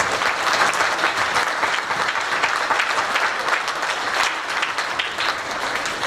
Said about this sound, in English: please put your hands together, take them apart, put them together, you know, the whole clapping thing